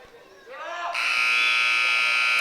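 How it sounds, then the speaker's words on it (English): A loud, steady electronic buzzer ends a period in a high school wrestling bout, starting abruptly and holding continuously, preceded by a brief rising tone and crowd noise. "there's the buzzer for the end of period 1 in this 195-pound bout"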